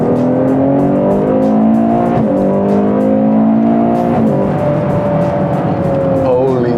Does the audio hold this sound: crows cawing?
no